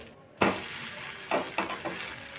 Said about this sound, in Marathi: एक साईड व्यवस्थित तयार झाल्याच्या नंतर आता आपण हे पलटी करून घेणार आहोत